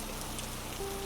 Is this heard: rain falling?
yes